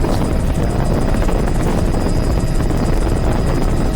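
A helicopter flying low over a flat, lush wetland gives a loud, steady rotor and engine roar with a faint rhythmic beat, unbroken for the whole stretch, with no talking.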